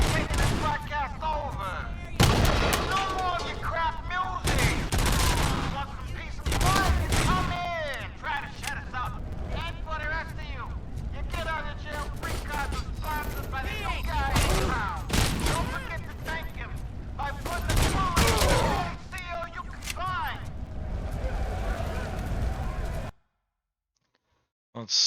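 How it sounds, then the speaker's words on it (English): Heavy, sustained gunfire at prisoners in Robocop: Rogue City, loud repeated blasts and bursts packed closely across the scene, with people talking over the shooting until it cuts to silence. "you don't have to shoot all the prisoners"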